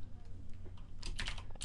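Quick clicking keystrokes on a computer keyboard, typed at a steady pace close by, growing busier in a short burst with no voice.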